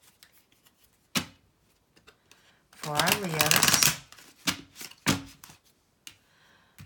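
Tarot cards are shuffled in a loud riffling burst, followed by softer shuffles and taps, while a person speaks briefly in between.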